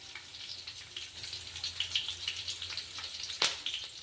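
Fresh curry leaves sizzling in hot oil for a North Karnataka green chilli chooda, a steady soft crackle with a brief sharper burst of spitting near the end, no voices.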